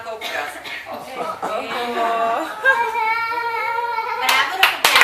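Children in a classroom clap their hands in a quick burst of many claps, with high young voices and excited chatter layered over and after it.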